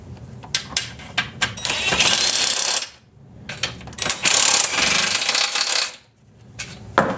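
Metal bolts and parts from a Chevy NV3500 five-speed manual transmission rattling and clinking onto a parts pile during a tear-down, in several loud bursts of jangling metal separated by short pauses.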